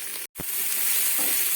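Tomatoes and mixed vegetables frying on a low-medium gas flame, a steady close hiss of sizzling cut by a brief dropout near the start, with a faint stir afterward.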